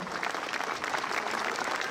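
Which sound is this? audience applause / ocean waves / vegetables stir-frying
audience applause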